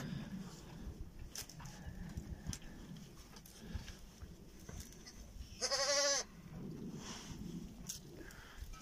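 A single loud bleat from a Katum sheep or ram, lasting about half a second. Quiet rustling and farmyard background sound surround it.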